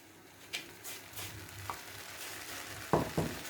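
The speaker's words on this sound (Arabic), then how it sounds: "هبدا انزل عليها كده بسم الله الرحمن الرحيم بنص كوبايه شربات" Syrup poured onto hot, freshly browned kunafa, giving a faint, steady sizzle with a few soft crackles and two sharper splashes near the end, heard alone without talk.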